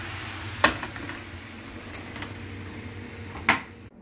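Mushrooms cooking in a pan while being stirred give a steady soft hiss, broken by two sharp scraping clicks of the utensil against the pan, with no voices.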